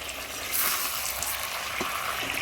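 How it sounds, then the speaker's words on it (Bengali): Chicken and chopped onion sizzle in a pan while being sautéed for a home-style potato chicken curry, a soft, steady crackling hiss with faint stirring scrapes, fairly quiet and continuous with no talk. "আমার চিকেন কষানো হয়ে গেছে।"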